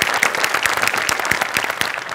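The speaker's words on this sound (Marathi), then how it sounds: "जोरदार टाळ्या." Audience applause for a comedy sketch performance on a stage show, a dense steady wash of many hands clapping close and loud throughout, with no voices.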